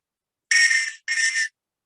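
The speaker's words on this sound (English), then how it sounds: "if the light's flashing and you're making a lot of noise with this whistle" Two short, shrill blasts from a safety whistle on a life jacket, each about half a second with a brief gap between, loud and close with nothing else audible.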